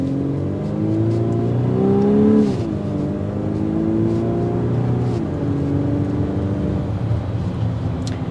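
A 2024 Volkswagen Atlas Cross Sport with a VR6 engine accelerates hard in sport mode, its engine note rising steadily through the gears with a brief dip at each shift, loud and continuous inside the cabin.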